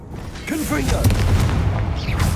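Confringo blasting curse explodes in Hogwarts Legacy, a booming burst with rumbling low end and crackling debris, with a voice briefly speaking over it amid ongoing combat noise.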